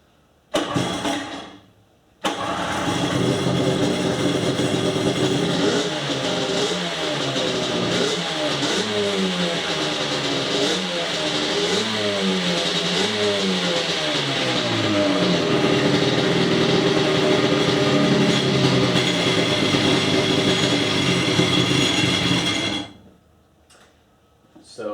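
A Sea-Doo engine fitted with a swapped carburetor and running on premixed gas starts after a short false start, then runs loud and steady for about twenty seconds. It revs up and down in waves before cutting off.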